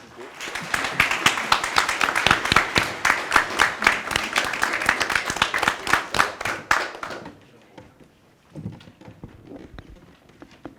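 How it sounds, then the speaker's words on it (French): Audience applause at a student-hosted stage interview, a dense burst of rapid clapping for about seven seconds that stops abruptly, followed by a quieter stretch with brief talking. "Applaudissements, s'il vous plaît."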